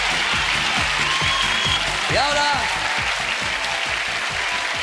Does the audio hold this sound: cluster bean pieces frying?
no